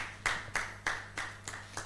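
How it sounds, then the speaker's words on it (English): A few slow, isolated hand claps ring out at a real estate outlook event, about six sharp claps spaced roughly a third of a second apart, moderately close and fairly quiet, with no talking. "A round of applause."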